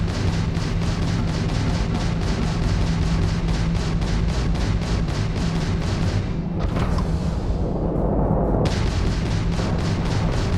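Spaceship weapons fire in the Starfield video game: rapid repeated booming blasts in a steady rhythm, loud and dense, with a whooshing swell partway through before the firing resumes.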